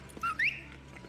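A rising two-part whistle calls a horse in Red Dead Redemption, set in the Western town of Armadillo; two short, clear whistle notes sound alone over faint ambient game background.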